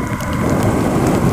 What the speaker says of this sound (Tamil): ஓ மழை வர அதிகமாகிடுச்சு